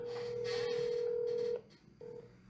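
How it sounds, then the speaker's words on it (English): An outgoing phone call rings out over the earpiece, one long steady ringback tone followed by a short gap and the start of another, faint and with no one talking. "I don't think he's gonna answer, but I'll call."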